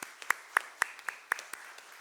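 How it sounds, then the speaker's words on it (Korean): A small church congregation at a Sunday service gives a few slow, spaced claps, about five or six distinct sharp hits in a steady rhythm, fairly close and light. "큰 축복의 박수 보내겠습니다."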